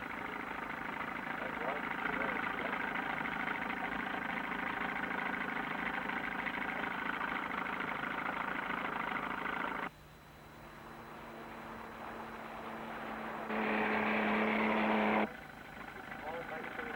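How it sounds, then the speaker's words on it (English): A small outboard motor on a lake in Australia drones steadily up close, a continuous low hum that shifts in tone partway through as the engine note changes. "Hour after hour they edge along, the small outboard churning slowly."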